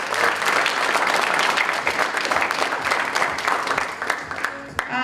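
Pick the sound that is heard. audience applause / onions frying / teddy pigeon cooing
audience applause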